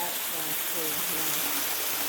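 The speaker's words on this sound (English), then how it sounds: "this has been the Nojoqui Waterfall" Nojoqui Waterfall in Santa Barbara County pours in a steady, broadband hiss of falling water, loud and constant throughout, with a voice murmuring faintly underneath.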